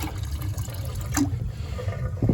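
Water drains steadily from the pipe of a Honeywell heating zone valve, a continuous close trickle and gurgle with no talking.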